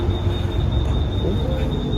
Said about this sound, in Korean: 공항 가는 길 기차